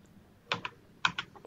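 A computer keyboard tapped while entering a partition size in Windows 10 disk setup, giving two short pairs of crisp, close keystrokes separated by a pause in a quiet room.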